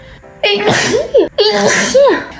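A woman sneezes twice in quick succession, each with a sharp inhaled buildup and loud burst, close and clear.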